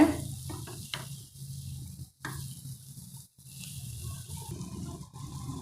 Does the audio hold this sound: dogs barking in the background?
no